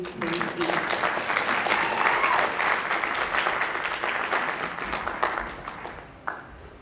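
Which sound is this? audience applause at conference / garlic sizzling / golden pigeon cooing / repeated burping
audience applause at conference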